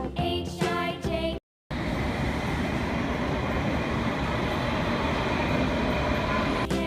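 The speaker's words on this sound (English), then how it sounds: "T for train." A train rumbles along steadily as a broad, continuous roar, loud and close, after a short burst of sung melody and a brief gap of silence.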